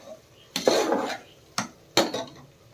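A utensil scrapes and knocks against a pan while frying onions with mint are stirred, giving three distinct clanking strokes with sizzle in between, close and clear.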